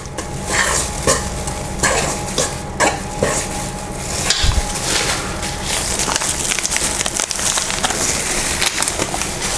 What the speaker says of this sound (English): sorry for the noise from these gloves